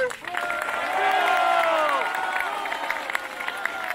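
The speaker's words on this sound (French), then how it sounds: "Je vous demande d'applaudir très fort Maître Jérôme Triomphe et Maître Jean Paillot" A crowd at a memorial march in Paris applauds outdoors, a steady clatter of clapping under a sustained amplified voice that carries over the noise, with the applause thinning toward the end.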